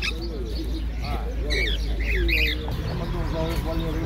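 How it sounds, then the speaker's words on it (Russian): Canaries and parrots chirping at an outdoor bird market in Kropotkin, scattered tweets and short trills mixed with cooing and a low background hum, alongside someone talking. "Канарейки, попугайчики, курочки."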